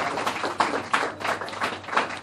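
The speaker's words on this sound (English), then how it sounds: "Oh, we can have a round of applause for that." Applause from an audience at a magazine cover launch event: a short, steady wash of many hands clapping from a moderate distance, with no voices.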